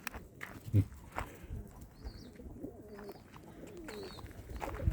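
Soft pigeon coos murmur at close range amid low rustling and a few thumps, with faint higher chirps in the background.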